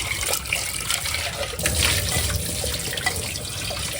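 Something is rinsed under a running kitchen tap, a steady splashing stream with small clatters and irregular splashes as it is handled, close and fairly loud with no talking.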